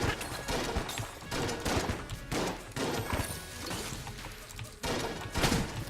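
Shotgun blasts fire in the Enter the Gungeon video game, a string of loud, sharp bursts coming one after another at a slightly uneven rhythm, each followed by a brief ragged decay.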